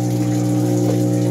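A Panasonic washing machine drain pump motor hums steadily, a loud, even electric drone with a watery gurgle running through it.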